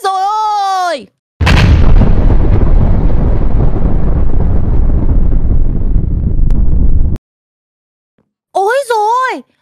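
A house blows up in the Minecraft video game: a loud, sudden blast followed by several seconds of dense, roaring rumble that cuts off abruptly, bracketed by short synthetic sound effects before and after.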